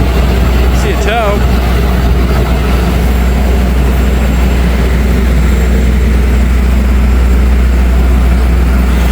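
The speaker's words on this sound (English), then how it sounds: "Enjoy the sound of these engines, shall we?" The engines of the Augusta Ferry, a river ferry, run with a loud, steady low drone and hum that carries on unbroken from start to finish. A brief high chirp rises over it early on.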